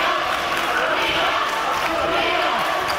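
A high school boys' basketball crowd claps and chants on defense during the fourth quarter against Tascosa. The constant, dense roar of the gym crowd fills the space, with a commentator talking over it.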